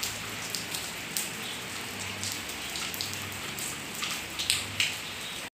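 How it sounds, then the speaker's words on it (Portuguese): Steady rain pattering on a surface outside a home, a continuous dense hiss with scattered sharper drops and a faint low hum beneath, no voices. "Chuva."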